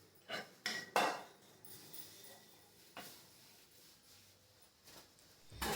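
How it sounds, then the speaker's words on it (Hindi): Dishes, pots and pans are washed in a home kitchen, giving a few sharp metallic clanks and clatters close by, separated by quiet pauses, with a last clatter at the end. "तो अभी बस बर्तन साफ़ करना है"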